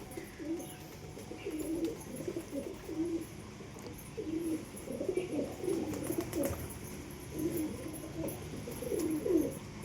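Pigeons coo in repeated soft, low throaty phrases, several birds overlapping at close range against a faint background hum.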